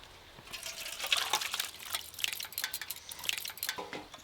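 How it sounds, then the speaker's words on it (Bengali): Grated watermelon is tipped from a plate into a bowl, making soft wet slops and splashes with light clinks of utensils against the dish, close by and fairly quiet. "গামলিতে ঢেলে নেব।"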